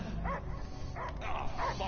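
A dog barking in the Guardians of the Galaxy video game, several short, fairly faint barks and yips spaced apart over a low background rumble.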